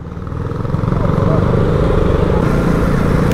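A motorcycle, not a scooter, on a group ride of several bikes gives a steady, close engine drone that builds over the first second and then holds.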